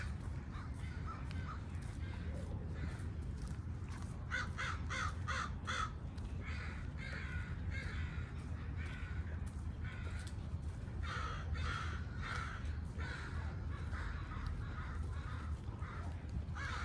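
Crows caw repeatedly in a park near a swamp, harsh calls coming in irregular bursts over steady outdoor background noise.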